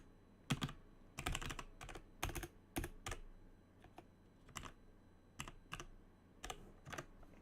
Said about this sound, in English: So if I just type this in